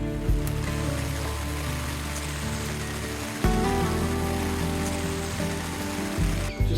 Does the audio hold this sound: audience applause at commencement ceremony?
no